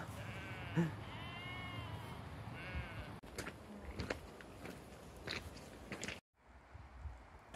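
Sheep bleat several times along a hiking path in the Lake District fellside, with calls rising and falling in a few separate bursts over steady outdoor background noise, fairly close to the listener.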